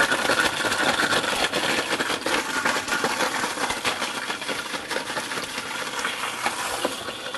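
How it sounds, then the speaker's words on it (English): A blender mixes a drink in a cup pressed on without a lid, a loud continuous whirring and grinding that holds steady and eases only slightly toward the end. "Who needs a blender cup lid? You can just press on and then go to mix."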